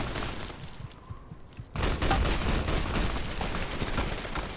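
Gunfire in Fallout: New Vegas during a fight with Legion troops: a rough, continuous roar of shooting swells in after a quieter opening and keeps up at steady loudness to the end, with no voices.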